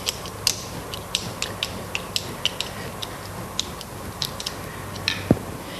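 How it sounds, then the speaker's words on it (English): A wrench ratchets a sealing clamp tight on a PLP SS splice closure, giving a steady series of small, close metallic clicks at an even pace, ending with one sharper knock. "Then take your wrench and then turning the sealing clamp clockwise until it's tight."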